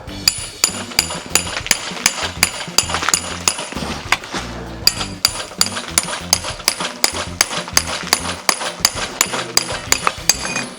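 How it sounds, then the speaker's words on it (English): A homemade tool cut from old metal chipping the backing off 300-year-old tiles in a chateau tower, rapid sharp metallic scraping clinks repeated in an uneven rhythm, close and loud, with one brief pause. "We just made this out of a bit of old metal, just cut the angle off and just chipping away at the back."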